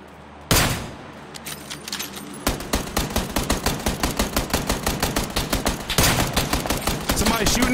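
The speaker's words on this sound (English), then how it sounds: "Somebody shooting at us from the rear." Rapid bursts of automatic gunfire in a PUBG-style battle royale match, loud repeated cracks in a fast steady rhythm with a brief pause midway, close and dominant with no talk over it.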